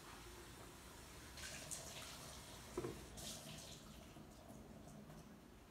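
Water running steadily from a kitchen tap while vegetables such as carrots are washed, a soft continuous faint rush with a few brief splashes and clinks.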